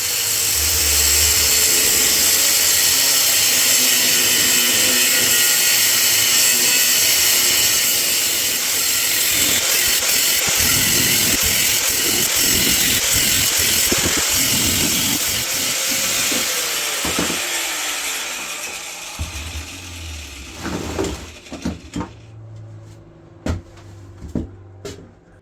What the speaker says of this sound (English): that is a lot of grinding that we had to get done there